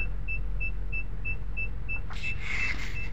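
A used car idles in reverse with the brake held, giving a steady low engine hum under a regular series of short electronic beeps. No one speaks.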